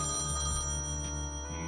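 A payphone rings in the Thimbleweed Park video game, a steady electronic bell tone trilling continuously at a moderate, even volume with no speech.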